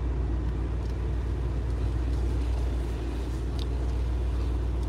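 A Mercedes-Benz G 63 AMG SUV drives at night, a steady low engine and road rumble heard from inside the cabin, continuous and even throughout with no talk.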